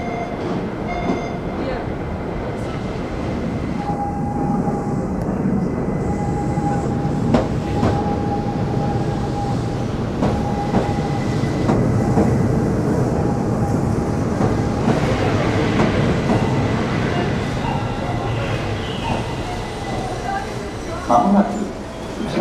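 A train rumbles steadily into a platform at Keihan Biwako-Hamaotsu Station in Japan, with rail noise and brief squeals, while voices and announcements carry faintly over the din.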